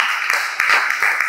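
Congregation applauding in church during a sermon, a steady wash of clapping hands with brief swells and dips over about a second, fairly loud and close.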